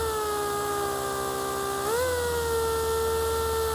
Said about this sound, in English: This is a pneumatic polisher, one of Rupees' best tools in my opinion.